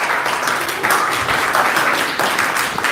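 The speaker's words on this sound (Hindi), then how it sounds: "बच्चों हमारे सर के लिए तालियां होनी चाहिए।" A classroom full of students claps steadily and densely for a few seconds, an even wash of applause with no talking over it.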